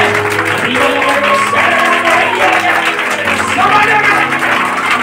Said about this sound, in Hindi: आपका ताली में दम होना चाहिए